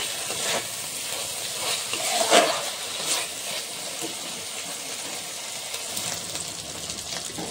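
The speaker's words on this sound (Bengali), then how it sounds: "মশলাটা ভালো করে কষিয়ে নিয়েছি" Masala spices for dhaniya chicken fry in a pan with a steady broadband sizzle, small stirring scrapes rising and falling through it, fairly close and moderately loud, with no voices.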